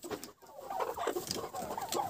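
Chickens in a backyard poultry yard cluck and murmur steadily, a busy, fairly faint chorus of overlapping short calls with no speech.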